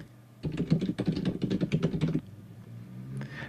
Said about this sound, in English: Typing in my friggin' email address.